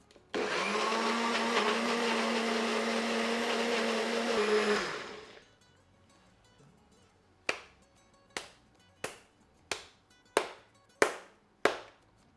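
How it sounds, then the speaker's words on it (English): A blender blitzes avocado with pepper and olive oil into a smooth puree, a steady loud whir for about five seconds that cuts off, followed by a string of sharp taps as the jar is knocked down. "we're going to blitz and mix everything into a smooth puree"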